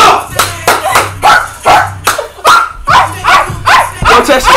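A dog barks repeatedly in a fast, loud, close series of about a dozen sharp barks, with a person's voice mixed in at times.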